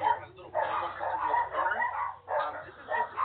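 Several dogs bark and yip in quick, overlapping bursts, fairly close, in a rapid uneven rhythm with short pauses between volleys.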